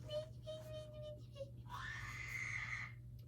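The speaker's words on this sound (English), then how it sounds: "That was a scream." A faint, distant high-pitched scream rises and holds for about a second on a quiet recording over a steady low hum, with thin whistling tones before it.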